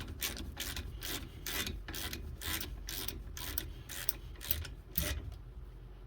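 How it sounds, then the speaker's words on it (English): A hand ratchet tightens the brake caliper on a 2003 Ford Explorer Sport Trac, giving a quick, regular series of rasping clicks in bursts, close and moderately loud, with no talking. "we're going to take our ratchet and we're going to tighten that caliper up"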